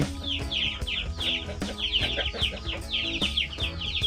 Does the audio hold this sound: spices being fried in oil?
no